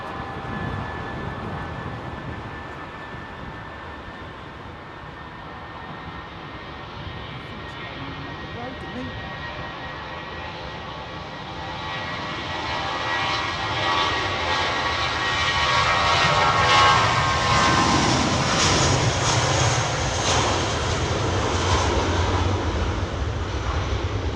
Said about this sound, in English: it's a Qatar triple coming out